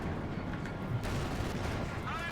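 A Panzer IV tank cannon booms in a World War II strategy game amid rolling gunfire and battle noise, with a commentator talking over it.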